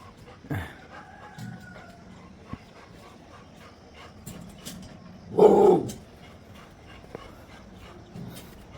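Outdoors on a rainy hill road near Valparai, a dog gives one loud bark midway, with fainter animal sounds, including a rooster-like call, scattered through an otherwise quiet stretch.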